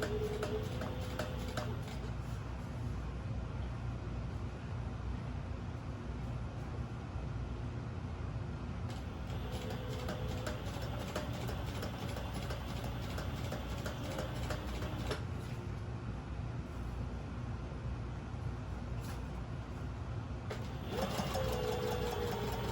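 An upholstery sewing machine runs steadily, its needle ticking and motor whirring without letup in a workshop, with a few brief changes in pace.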